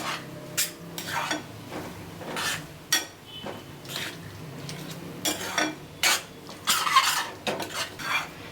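A spoon scrapes and stirs roasted brinjal pickle mixed with salt and chili in a metal vessel, making repeated close clinks and rubbing strokes at an uneven rhythm, with no voices.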